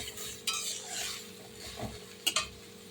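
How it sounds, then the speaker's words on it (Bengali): A spatula stirs fish and potato curry with thankuni leaves in a pan, soft scraping strokes over a quiet sizzle, ending in a couple of sharp metallic clinks against the pan. "মাছটা দিয়ে দেবো। দিয়ে নেড়ে চেড়ে আমি নামিয়ে নেব"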